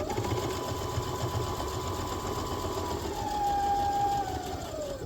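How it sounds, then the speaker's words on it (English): A sewing machine stitches a side seam on a fabric pouch close to the edge, a steady whirring motor hum with a rapid needle patter that shifts slightly in pitch near the end. "I'm just going to sew up from the side, and I'll do it as close to the edge as I can get."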